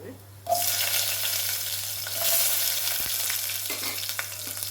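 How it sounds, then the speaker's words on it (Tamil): Sliced shallots and garlic drop into hot sesame oil for a pirandai kuzhambu and burst into a loud, steady, close sizzle that holds throughout, with a low hum underneath and an occasional stirring scrape. "நான் நல்லா வதங்கட்டும் வெங்காயம் பூண்டு"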